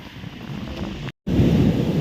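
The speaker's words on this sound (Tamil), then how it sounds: "கடல் அலை பயங்கரமாட்டு இங்கே வரைக்கும் வருது" Sea waves surge and wash up the shore in a continuous rough roar, mixed with gusty wind buffeting the microphone; the sound cuts out briefly to silence midway, then returns louder.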